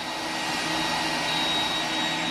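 An iRobot Roomba 980 robot vacuum sweeps up fallen pine needles from a Christmas tree, giving a steady, loud whirring drone with a faint high whine that holds evenly throughout.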